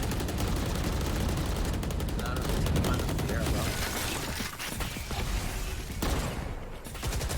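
Rapid bursts of gunfire from a tactical shooter esports match, a dense continuous crackle of shots through smoke with overlapping rattling volleys at steady loudness.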